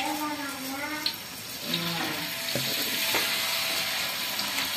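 Peanut peyek batter fries in oil heated over a wood fire, giving a steady, close hiss and sizzle with a few clinks, while someone talks over it.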